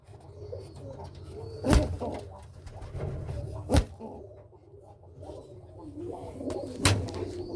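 Pigeons, a white bird among them, coo softly and continuously in a nesting coop, while three sharp knocks ring out at spaced intervals.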